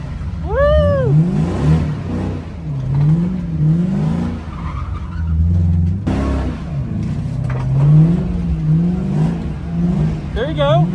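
A car drifting around a raceway revs hard in repeated surging waves, its engine note climbing and falling in rhythm, with sharp tyre squeals as it slides. Loud and close, with brief shouts now and then.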